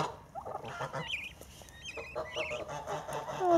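A turkey gobbles in short warbling bursts, repeated several times at moderate distance, with faint outdoor background noise.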